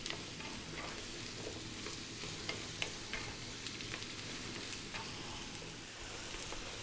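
Vegetables for a vegan chili sizzle steadily in a pan over medium heat, with close scraping and tapping as they are stirred throughout, no talking.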